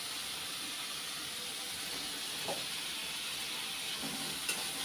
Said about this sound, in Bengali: মশলাটা কষানো হয়ে গেছে, তেল ছেড়ে দিয়েছে